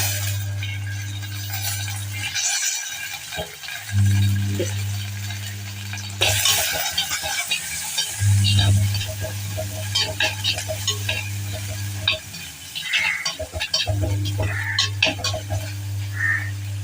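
Spices, including a pinch of fenugreek, sizzle and crackle in a hot pan while a spoon stirs them in intermittent scraping bursts, over a steady low background hum.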